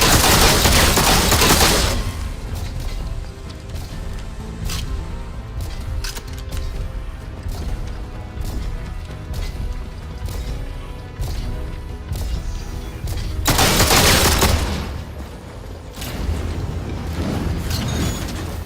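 Rapid pistol fire in the video game Atomfall, a long run of sharp repeated shots with heavy bursts at the start and again near the end, loud and close with no talk.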